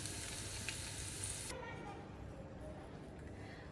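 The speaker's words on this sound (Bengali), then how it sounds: "আমি অবশ্য আর 1 মিনিট একটু ভেজে তারপর নামিয়ে নেব।" Chicken balls frying in hot oil, a close, steady sizzle that is loud at first and then drops to a softer crackle partway through.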